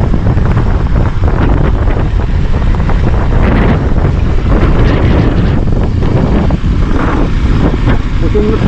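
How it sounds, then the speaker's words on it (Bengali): Strong cold wind buffeting the microphone on a mountain road in North Sikkim, a loud continuous low roar and rumble filling the whole stretch. "প্রচণ্ড ঠান্ডা হাওয়া হচ্ছে"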